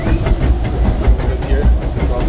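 A Disneyland Railroad steam train rolls along with a steady loud rumble and hiss, faint rhythmic clacking running under it the whole way.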